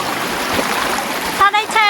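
Warm river water flowing steadily at night, a broad rushing wash close to the microphone with light splashy texture, and a voice briefly speaking near the end.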